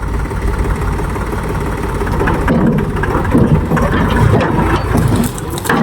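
A tractor stuck deep in mud keeps its engine running with a steady low rumble close by, and broadband noise and rustling from the surroundings sit over it.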